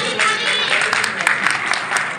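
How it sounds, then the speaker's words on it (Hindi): Audience at a women's wing event of a service association clapping together in a brief, dense burst of applause with sharp individual claps, close and fairly loud. "तालियां बजा दो, तालियां।"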